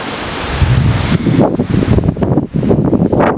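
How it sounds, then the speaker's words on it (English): Strong, cold wind buffets and roars against the microphone in loud, gusty rushes in a dense forest in Coorg, with no one speaking. "It's windy"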